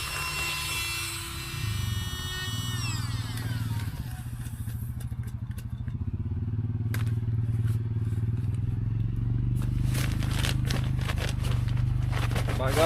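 A pump hums steadily and close by as it inflates an air mattress on a camping trip. A higher whine fades in the first seconds, and light crackles and clicks come through over the drone.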